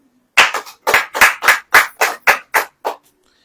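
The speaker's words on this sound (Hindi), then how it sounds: "ताली हो जाए।" A church congregation claps hands together in unison during a sermon, about ten sharp, evenly spaced claps close by, loud and alone with no talking.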